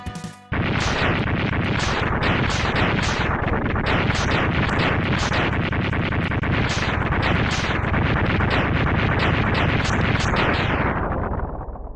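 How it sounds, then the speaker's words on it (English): Continuous rapid-fire chain of boss explosions from the video game Mega Man X2, dense, loud crackling blasts repeating steadily for a long stretch before tapering slightly at the end, with no talk. "you will sit there and watch explosions for 15 seconds"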